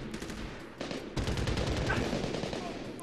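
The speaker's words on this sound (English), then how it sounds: "Oh, I'm getting shot at." Rapid bursts of automatic gunfire in the shooter game Medal of Honor Warfighter, dense crackling volleys growing louder midway and continuing steadily, with a voice speaking over the shooting.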